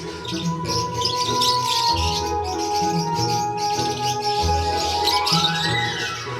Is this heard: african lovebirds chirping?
yes